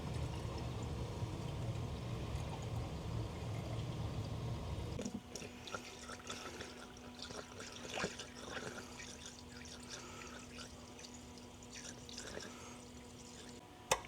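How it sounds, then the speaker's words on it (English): Engine oil drains out of a supercharged Honda B18C engine after a cylinder head installation, a steady pouring trickle that shifts into dripping and splashing partway through, fairly quiet with no talking. "we're just going to drain this oil out because we may have gotten some coolant in it with the head removal"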